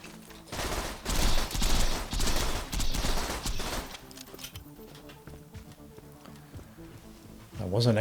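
Hornet gun firing in Borderlands, a loud rapid burst of shots for about three seconds, then fading to quieter game ambience with a brief sound at the end.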